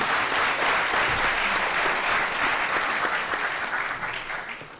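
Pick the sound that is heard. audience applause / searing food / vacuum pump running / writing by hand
audience applause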